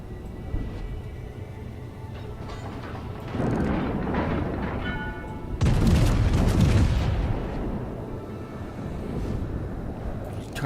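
The main guns of the battleship Massachusetts fire in World of Warships, giving two heavy booming blasts a couple of seconds apart that roll into long, deep rumbles over a steady low engine drone.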